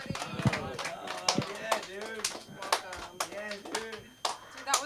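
Audience applauding comedian Armando at an LA School of Comedy night, a spray of scattered claps running under a voice talking close to the mic throughout.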